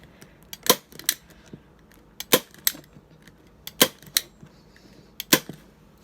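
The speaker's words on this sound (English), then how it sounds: "But I literally use my staple gun and just start stapling." A staple gun fires sharp, percussive snaps while stapling fabric onto a farmhouse dining chair, about a dozen irregular shots close by, some in quick pairs, with quiet handling noise between them.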